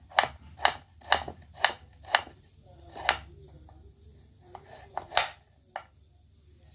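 A knife chops food on a board at close range for an Agri-style mutton thali: about ten crisp strokes, evenly spaced at first, then sparser and uneven.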